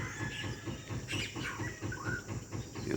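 Yellow-rumped cacique (japim), a mimicking bird, calling at dawn in the Amazon near its nesting tree; a few short, faint tonal calls rise over a steady bed of insect and forest ambience.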